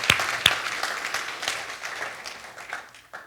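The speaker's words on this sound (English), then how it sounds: "let's give a round of applause for all of them" A room full of people applauding, scattered claps at first that settle into steady clapping before fading out.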